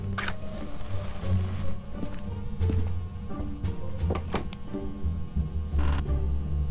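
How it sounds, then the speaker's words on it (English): In the ghost-hunting game Phasmophobia, a ghost swings a door: a drawn-out creak with scattered wooden thunks and knocks, moderately close, against a faint background hum and with no speech. "The ghost keeps moving that door on you."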